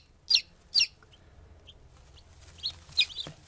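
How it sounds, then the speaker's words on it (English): Newly hatched Lavender Orpington chicks fresh from an incubator give a few high, sharp peeps: two loud ones close together, then softer, scattered peeps over a low room hum, no talking. "These are Lavender Orpingtons, just hatched out of the incubator."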